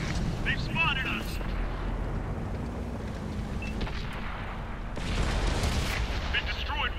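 Artillery fire in the tank game World of Tanks: a dense, continuous low rumble of battle with booming surges near the start and again toward the end, under loud in-game radio voices and clattering effects.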